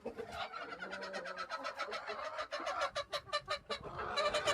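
Desi farm chickens cluck and call close by in a rapid, uneven burst, with soft cooing from poultry underneath and no speech.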